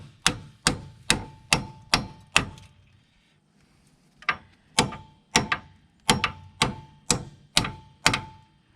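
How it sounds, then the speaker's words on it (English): Close, loud hammer blows drive the strut splines home on a 2007–2010 Jeep Compass, a fast run of six sharp metallic strikes, a pause, then about eight more in steady rhythm. "It's the proper way to use your hammer."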